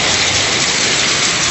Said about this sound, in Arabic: هوا واجد مطر بابا.